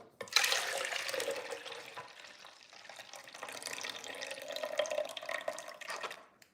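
Purple cabbage juice blended with green apple and ginger is poured in a steady liquid stream, close and clear, swelling and easing over several seconds with no talking.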